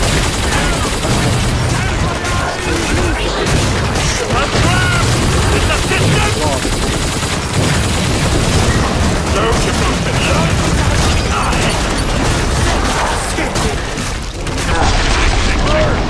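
Rapid weapon fire in a video game, a dense, loud, nearly unbroken barrage of shots and mechanical clatter with booming impacts, a voice talking over the din.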